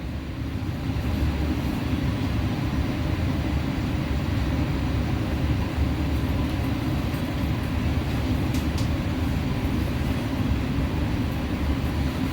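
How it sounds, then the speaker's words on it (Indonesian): A Lodaya economy-class train at night gives a steady low rumble of wheels and running noise, continuous and fairly loud throughout. "Kita lihat ada satu kereta ekonominya Lodaya."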